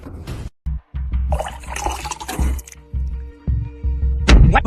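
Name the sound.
water being poured (presented as booze), anime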